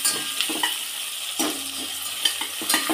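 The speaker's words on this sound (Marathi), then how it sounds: "आणि लगेच बटाटा टाकून घेऊया. कोथिंबीर पण टाकून घेते मी, परतून घेऊया चांगलं." Potato and coriander sautéing in a pan with onions for khichdi, a steady sizzle broken by scraping stirs of a spatula against the pan, close and without talk.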